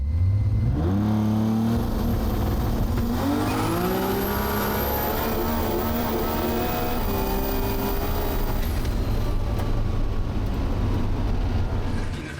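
A Nissan GT-R street car accelerates hard down a runway, its engine climbing through rising revs with a gear-change dip, then a high whine that fades as the car shuts off mid-run.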